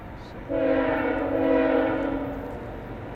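Freight train locomotives roll on a track, one crossed over to let a local pass: a loud multi-tone horn blast sounds over a rumbling engine drone, swelling then fading as the train passes.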